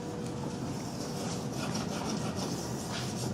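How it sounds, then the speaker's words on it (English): A burr stone is rubbed and filed along a speed skate blade from front to back. It makes a steady, continuous, close-up scraping rasp with no pauses, and no one speaks. "now I do a total deburr from front to back"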